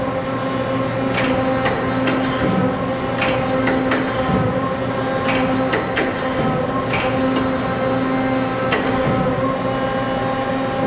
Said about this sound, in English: Let's do the turret indexes.